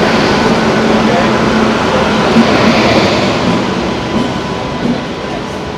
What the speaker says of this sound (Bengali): ট্রেন কিন্তু ঢুকছে আরোনি এক্সপ্রেস